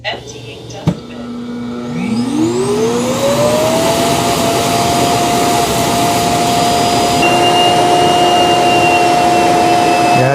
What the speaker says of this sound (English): Emptying dustbin.